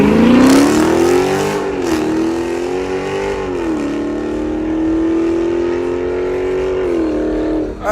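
A car with an Infiniti V6 engine and a K&N intake revving loudly up close at a launch, the engine note rising and wavering through sustained throttle.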